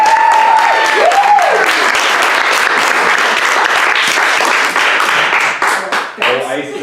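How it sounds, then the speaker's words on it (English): Audience applause on a Big Brother 12 set, loud, close, dense clapping that swells and then tapers off after several seconds, with a few voices and a brief tone near the start. "a quick applause to you"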